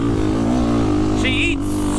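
A KTM EXC 450 dirt bike with an FMF exhaust and a tuned ECU roars close and loud in a sustained rev, its note wavering slightly, with a short high chirp partway through.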